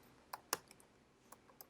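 Keys on a computer keyboard tapped in a short, irregular burst of sharp clicks, a handful of close strokes with brief pauses between them in a quiet room.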